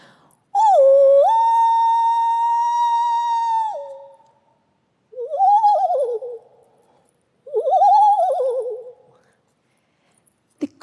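A human voice imitates a loon's call: a long sustained wailing tone that steps up in pitch and holds, then two shorter rising-and-falling calls separated by pauses, loud and clear, with no other sound.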